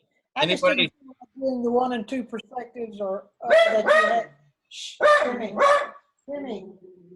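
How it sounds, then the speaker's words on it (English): A dog barks in short, sharp bursts, several times and close by, mixed in with people talking indoors. "He's barking at me."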